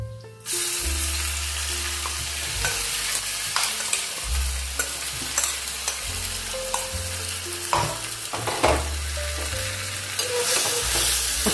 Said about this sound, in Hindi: अच्छे से इसको भूनना है मसाले को।